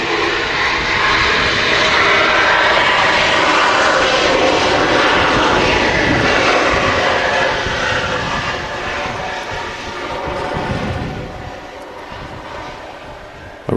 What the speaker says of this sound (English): Just as this TUI special taxis out as well.